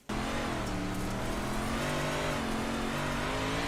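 Big Block Modified race car engine roaring from inside the cockpit at Port Royal Speedway, a loud sustained throaty drone that kicks in abruptly and holds steady with slight pitch shifts as the car runs the dirt track.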